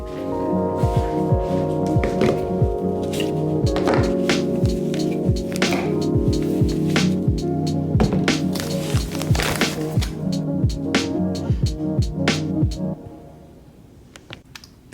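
A sewing machine stitches fabric for a pair of shorts, a rapid rhythmic mechanical tapping with a steady hum that runs for most of the stretch before stopping near the end.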